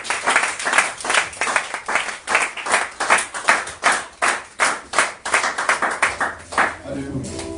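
A church congregation claps rhythmically in a steady, fast beat at a Sunday service, loud and close, with voices mixed in toward the end.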